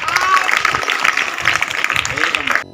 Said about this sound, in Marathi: विद्यार्थ्यांनी टाळ्या वाजून त्यांचं स्वागत करावं